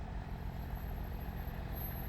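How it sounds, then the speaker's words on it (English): The 2-liter gasoline engine of a 2018 BMW 530e plug-in hybrid runs at a steady idle, a low continuous rumble heard close up with no other sounds. "this is your 2-liter gas engine"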